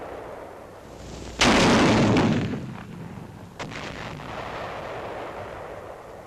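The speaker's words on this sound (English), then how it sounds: "The 57mm recoilless rifle, also in action for the first time in the Pacific theater." A 57mm recoilless rifle firing a HEAT shell at caves in the Pacific theater, one sharp loud blast that rumbles and decays over a noisy background, with a fainter second report shortly after.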